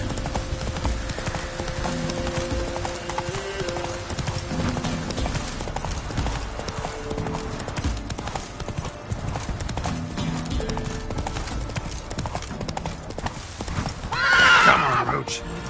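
Horse hooves galloping in a video game, a steady rapid clip-clop running throughout with a brief whinny near the end, and a voice talking over it.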